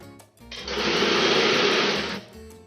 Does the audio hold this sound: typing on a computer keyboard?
no